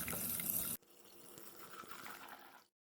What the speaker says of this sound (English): Pour in enough water